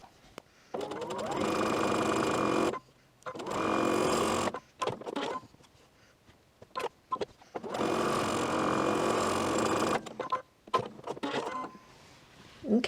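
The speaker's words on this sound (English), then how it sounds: "Now this one, we're going to sew 1/4 inch line on either side of the drawn line." A home sewing machine stitching quarter-inch seams on flying geese quilt units, running in several bursts of steady whirring separated by short pauses and small clicks, close and clear with no talking.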